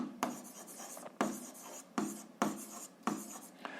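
A formula for buoyant force is written out during a school physics lesson, heard as five quick, close scratchy strokes in bursts separated by short pauses, with no voices.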